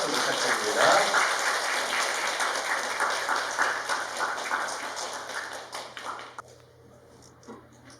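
A church audience applauds at a diocesan gathering, with dense, steady clapping that fades out near the end while a voice talks faintly underneath.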